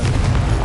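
A Confringo blasting-spell explosion in the Hogwarts Legacy video game on PS5: a short, dense, booming burst that fills the whole moment with heavy low rumble, loud and close, with no talk over it.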